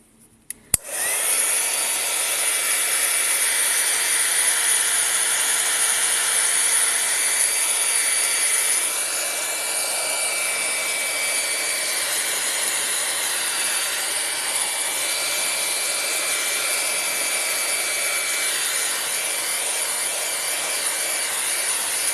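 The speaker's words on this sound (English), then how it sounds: "Let me hit this with a heat gun real quick so it will dry more." A heat gun blows hot air over rice paper pages of book signatures, a loud, steady whooshing roar that starts with a click and runs unbroken to the end.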